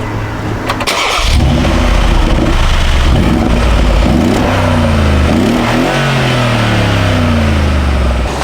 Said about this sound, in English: And man, this exhaust system sounds amazing.